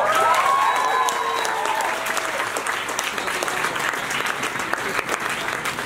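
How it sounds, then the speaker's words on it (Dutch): A crowd applauds at an animal rights march in Amsterdam, with sustained dense clapping throughout and a few whistles and cheers rising early on. "Applaus."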